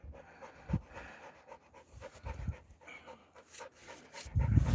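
A dog pants heavily and rhythmically close by, quick breaths rising and falling with a few louder huffs toward the end, no talking over it.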